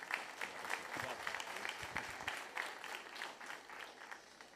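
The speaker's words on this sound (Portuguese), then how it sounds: "Você pode aplaudir a Jesus?" A church congregation at a Sunday service applauds together, a dense, even patter of clapping sustained throughout, with a voice briefly audible underneath near the start.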